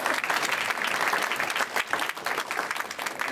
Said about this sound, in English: let's give a big round of applause to our small staff